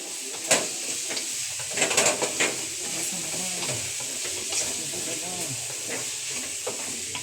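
Vegetables for veg Maggi sautéing in a pan, a steady broadband sizzle with scattered stirring scrapes and clinks across the clip, fairly close, with faint voices now and then in the background.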